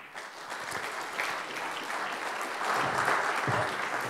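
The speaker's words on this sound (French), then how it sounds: "Merci d'accueillir chaleureusement et avec vos applaudissements, Françoise Rubellin." An indoor audience at a round-table event applauds to welcome a speaker, sustained clapping that swells toward the end with no talk over it.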